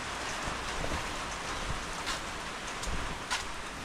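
Steady heavy rain falling, a dense hiss of drops on surfaces with occasional heavier splats, no voices.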